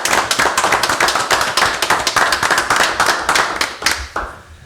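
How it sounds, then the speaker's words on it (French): Clapping from a small group at a municipal council meeting: distinct hand claps in a quick, uneven rhythm, close and loud, tapering off toward the end with no talking. "ça vaut une main d'applaudissement"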